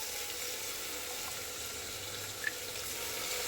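Water is poured into a pot of washed rice and salted vegetables for pulao, a steady splashing hiss with a small clink partway through, close by and alone.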